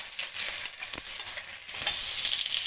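Oil sizzling and crackling in a kadai as ingredients are stirred, a steady close frying hiss with occasional scraping strokes and no talking.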